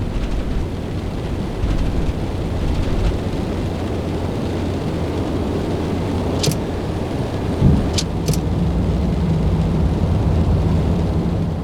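Wind and rain in the iFly 747-400 flight simulator make a loud, steady, dense rush that runs throughout, with a few faint clicks and a soft thump standing out briefly.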